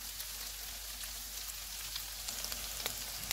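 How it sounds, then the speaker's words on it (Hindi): Keema (minced meat) frying in a covered pan, a faint steady sizzle with soft crackling throughout. "कीमे को पकते हुए 5 मिनट गुजर गए हैं।"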